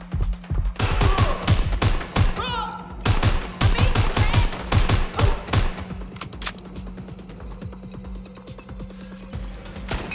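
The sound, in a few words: gunfire in the video game Watch Dogs Legion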